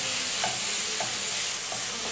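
Tomato masala for chicken dum biryani simmers in a pan, with a dense continuous sizzle and three soft, regular stirring scrapes close by, no voices.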